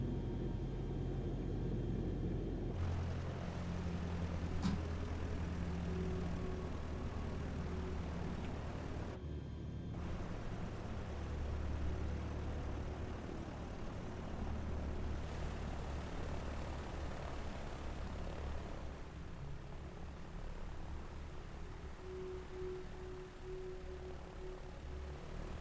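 A propeller airplane drones steadily in a flight simulator game as it approaches a dirt airstrip from the west to land on runway 24, with a continuous low engine rumble and shifts in pitch.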